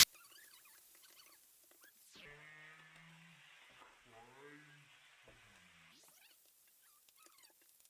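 Meat for a sweet and spicy adobo browns in a covered pan, giving a faint, steady sizzle and patter broken by a few brief scraping and squeaking sounds.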